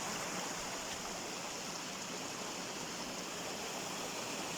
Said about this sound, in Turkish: Burada yağmur sularıyla oluşan böyle bir dere ve mini şelale gibi.